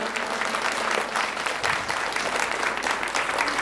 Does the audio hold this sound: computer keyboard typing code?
no